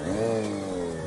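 Motorcycle engine revving steadily upward during a wheelie, a sustained mid-pitched roar with rising and falling harmonics, close and loud for about a second.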